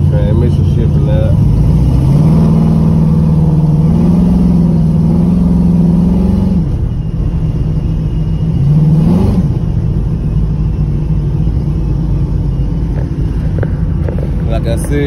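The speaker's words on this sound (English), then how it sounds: "Transmission shifting out." A 1987 Monte Carlo's engine rumbles loudly and close, rising through a couple of revs as the transmission shifts, with a voice talking over the steady engine noise.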